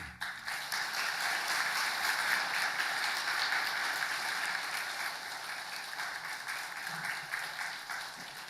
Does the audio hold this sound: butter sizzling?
no